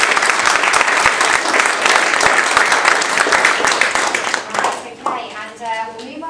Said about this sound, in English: So we'll give a round of applause